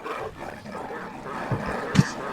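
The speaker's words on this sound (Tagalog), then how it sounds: "Hinahabol na ako ng mga epal na aso." Dogs in the video game Doge Head Escape chase the player, giving a few short, soft barks and yips over a quiet game backdrop, with the clearest bark near the end.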